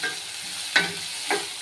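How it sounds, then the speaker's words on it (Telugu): Onions frying in a pan with a little salt, a soft continuous sizzle broken by two or three sharp scraping stirs of a spoon against the pan, close and fairly quiet. "బాగా ఫ్రై కావాలా? మగ్గాలి, బాగా మగ్గాలి ఉల్లిగడ్డ ఎర్రగా."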